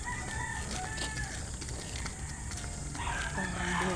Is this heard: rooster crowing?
yes